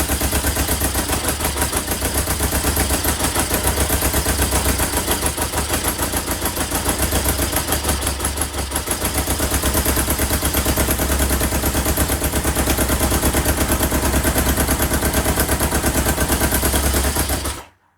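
A 1977 Kawasaki KZ650 motorcycle engine idling roughly, a loud, close, continuous uneven rattle and misfiring putter that holds for about seventeen seconds before cutting out abruptly.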